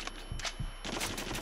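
Uzi fire in the VR shooter Until Dawn: Rush of Blood, a few quick bursts of sharp, close rapid shots, no talking.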